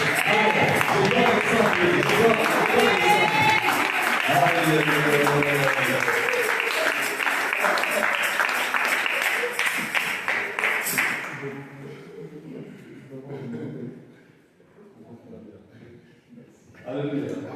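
A church congregation applauds the prophet during a sermon service, with steady clapping and cheering for about eleven seconds beneath a loud voice speaking over it, then fading away into quieter talk.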